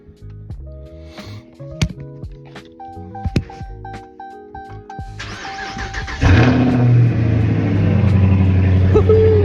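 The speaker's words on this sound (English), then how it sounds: "Nothing like a cold start in the morning" Clicks and chimes, then a Dodge Charger R/T engine cold-starts, cranking and firing up into a loud, steady idle that continues to the end.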